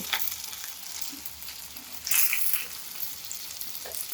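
Leftover roti pieces shallow-fry in oil in a pan, a soft continuous sizzle with occasional brighter crackles and a brief louder spatter midway, close and quiet, without talk.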